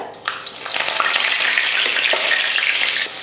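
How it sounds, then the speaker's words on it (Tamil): Fenugreek seeds and curry leaves tempering in hot oil for a South Indian kuzhambu, giving a loud, steady, close sizzle that swells just after they drop in and holds without a break. "எண்ணெய் நல்லா காஞ்சிருச்சு அதில் கொஞ்சம் வெந்தயம் சேர்த்துடலாம் வெந்தயம் பொரிஞ்சதுக்கப்புறமா கொஞ்சம் கருவேப்பிலை"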